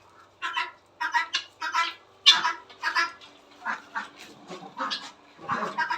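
A duck in a garden quacking repeatedly at close range, about a dozen loud, evenly spaced quacks in a steady rhythm, sounding alone with no talk over them.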